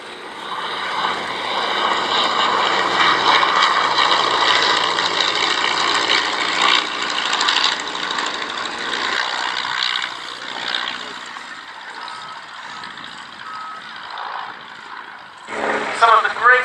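De Havilland Chipmunk aircraft engine at an Edwardian pageant airshow, a steady propeller drone that slowly fades, with a voice over a public address heard alongside it.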